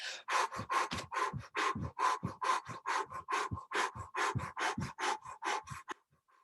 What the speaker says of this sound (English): we're going to breathe fast for 10 seconds